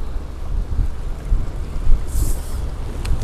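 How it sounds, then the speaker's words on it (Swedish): Wind blowing across a lake in early spring, heard from a fishing boat while pike fishing, a steady loud rumble of wind buffeting the microphone with gusts and a brief hiss near the end. "här blåser också så det blir ännu kallare"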